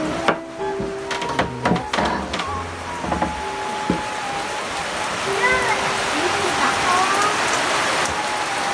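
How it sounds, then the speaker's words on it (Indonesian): Steady rain falls in a remote village, a dense continuous hiss of drops on surfaces. Voices and other brief tones are mixed in during the first few seconds. "cuacanya hujan teman-teman ya"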